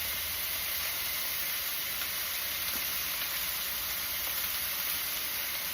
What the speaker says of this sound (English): we're going to sear this for 3 to 5 minutes on each side, or until it's golden brown